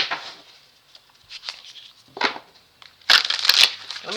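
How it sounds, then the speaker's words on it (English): Crisp riffling and crinkling bursts of cards being shuffled, in short irregular spurts with a louder flurry near the end. "I want to get a nice shuffle on these."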